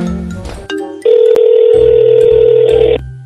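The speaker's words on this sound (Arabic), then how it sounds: "في حدا عم يدق لك. ولك قوم رد على بطيخ التليفون" A telephone rings loudly and steadily as a continuous electronic tone for about two seconds, following brief indistinct sounds, with no talk.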